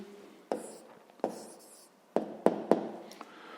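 Pen strokes writing out the answer to a sixth-grade math exercise: a few sharp taps and short scratchy strokes in irregular bursts, close and quiet, with no talking.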